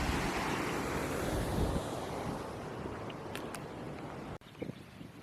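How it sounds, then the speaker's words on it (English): Water flowing beneath a creek crossing near a full lake at Menindee on the Darling, heard as a steady broadband rush with wind buffeting the microphone, continuous for about five seconds before a brief handling bump near the end. "you can hear the water flowing under here"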